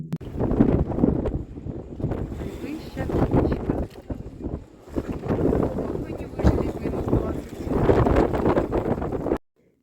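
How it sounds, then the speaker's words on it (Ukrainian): Strong wind on the summit of Mount Ulriken in Bergen, Norway, buffets the microphone in heavy, roaring gusts that rise and fall, loud and close, before cutting off abruptly at the end. "На горі був страшенний вітер, разюча відмінність від міста, яке залишилось внизу."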